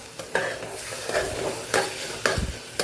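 Milk powder is stirred into red-carrot gajar halwa in a pressure-cooker pan. A spoon scrapes the pan in four rhythmic strokes over a soft sizzle, close and clear, with no talking.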